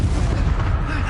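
An Expulso spell explosion from the Hogwarts Legacy video game fires as a single deep, loud boom with a low rumble that fills the brief moment, with no talk over it.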